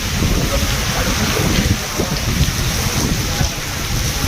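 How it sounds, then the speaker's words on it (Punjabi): A heavy windstorm with rain and thunder roars steadily as dense rainfall and gusting wind, with low rumbles and occasional thumps close by, loud and continuous throughout. "ਹਵਾ ਪਹਿਲਾਂ ਝੱਖੜ ਬਹੁਤ ਤੇਜ਼ ਸੀ ਨੇਰੀ ਸੀ"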